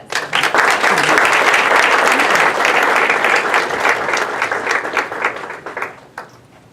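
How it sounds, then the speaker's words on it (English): Sustained applause from an audience at a California Sociological Association keynote, loud dense clapping that swells quickly, holds for several seconds, then thins into scattered claps and fades. "Let's give him a round of applause."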